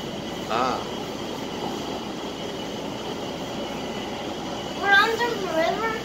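A steady, muffled rumble of a subway car running underground approaching a river crossing, with people talking now and then over the constant hum.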